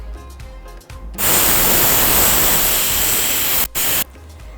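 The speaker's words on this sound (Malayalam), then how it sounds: "നമ്മുടെ കുക്കറിന് ഒരു വിസിൽ വന്നു" A kitchen pressure cooker releases its whistle while cooking spicy chicken. The loud, steady hissing blast of steam lasts about three seconds, briefly cuts out near the end, then resumes.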